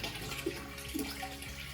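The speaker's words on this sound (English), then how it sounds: "We got our beers here. We'll just pour those in there." Beer glugging and splashing as it is poured into a turkey brine, a steady liquid pour that runs for under two seconds with no talking.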